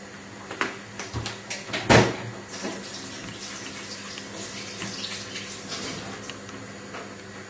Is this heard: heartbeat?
no